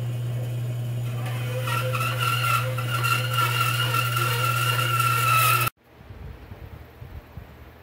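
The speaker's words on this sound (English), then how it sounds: "I'm going to go ahead and roughly cut this out with the bandsaw" A bandsaw roughly cuts out a guitar neck blank, a loud steady whine with a strong low hum that runs for several seconds, then stops abruptly and leaves quiet workshop rustle behind.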